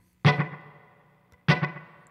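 Two separate electric guitar notes or strums played through a delay pedal with reverb engaged, each one a sharp attack whose wash of echo and reverb trails away, with a short pause between them.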